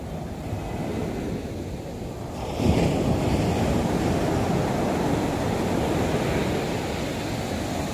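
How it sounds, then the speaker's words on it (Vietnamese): Ocean waves crash onto the shore at Nha Trang in a continuous broadband roar, with one heavier surge breaking close by partway through, then a steady wash of surf and some wind noise. "Mọi người thấy sóng biển rất là lớn nè"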